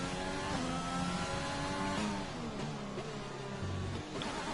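Formula 1 car in a Codemasters racing game at the Hungarian GP, engine revving up through third gear with rising whine and a shift, loud and continuous with no talk.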